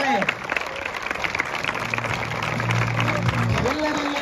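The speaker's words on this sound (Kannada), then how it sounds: "ಜೋರಾದ ಚಪ್ಪಾಳೆ." Loud applause from a crowd at a college sports festival, steady clapping with a voice talking over it.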